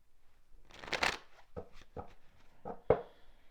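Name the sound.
tarot cards being handled and shuffled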